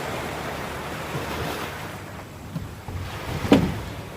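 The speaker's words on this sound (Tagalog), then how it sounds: "Dito na naman kami sa dagat." Ocean waves and wind at the sea on an afternoon, a continuous rushing surf and gusty wind buffeting the microphone, with a louder wave surge near the end and no voices.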